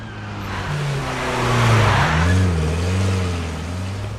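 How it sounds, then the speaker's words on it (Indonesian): A car in an action film scene drives off, its engine rumbling and revving up steadily with a swelling, fairly close roar that rises and dips over several seconds. "Saat itu juga John dan Joey bergegas pergi dengan menggunakan mobil anak buah Kwang tadi untuk menjemput Raymond."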